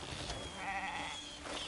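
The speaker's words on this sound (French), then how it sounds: "c'est juste une chèvre." A goat bleats in the open-world video game Crimson Desert: one wavering, nasal bleat that rises over a low outdoor ambience, fairly close and clear, with no voices.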